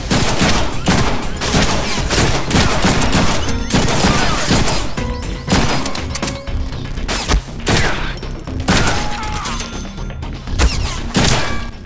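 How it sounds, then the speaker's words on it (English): Near-continuous gunfire in the Deadpool video game, dense rapid shots and crashing impacts packed tightly together, loud and close throughout. "the shooting is actually pretty good, too"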